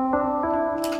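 Fortnite music block synth processed with reverb, EQ and Fruity Love Filter, a short sustained tonal chord with two soft retriggered attacks and a brief bright noisy swell at the end, alone.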